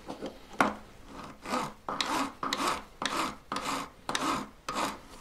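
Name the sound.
filing a wire join on a pendant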